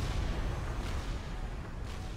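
Artillery fire from units in Supreme Commander, a dense run of rumbling booms and blasts blending into one another at a moderate, steady level with no talk.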